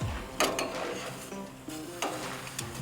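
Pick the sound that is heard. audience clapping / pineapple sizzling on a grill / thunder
pineapple sizzling on a grill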